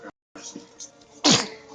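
A single sharp sneeze bursts out near the end, close and loud, following a brief moment of quiet voice and rustling.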